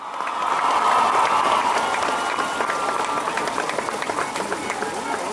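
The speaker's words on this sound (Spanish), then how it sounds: "Fuerte el aplauso para los Leones de Yucatán y su directiva." Loud, steady crowd applause for the Leones de Yucatán baseball team at their championship celebration, a dense wash of clapping that swells early and holds throughout, with cheering voices mixed in.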